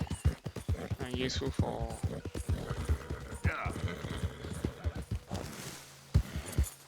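A bulky horse's hooves clip-clopping at a walk in Red Dead Redemption 2, close steady rhythmic clops with a brief whinny-like sound, while someone talks throughout.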